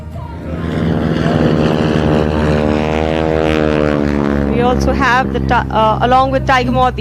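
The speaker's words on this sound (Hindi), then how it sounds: "उस दौरान इस तरह के विमानों का इस्तेमाल होता था जिसमें सामने पंखे होते थे।" A Moth biplane with a front propeller flies at an Indian Air Force air show over Hindan Air Base, Ghaziabad, giving a loud, steady engine drone throughout, with voices rising over it toward the end.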